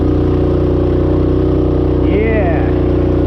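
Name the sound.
Rokon Trailbreaker motorbike engine running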